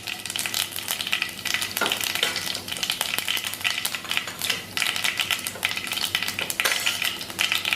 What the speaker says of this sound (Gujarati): તેલ ગરમ થઈ ગયું છે તો એની અંદર આપણે એક ચમચી જેટલી રાઈ નાખીશું